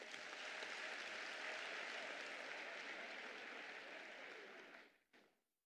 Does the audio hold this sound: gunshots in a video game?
no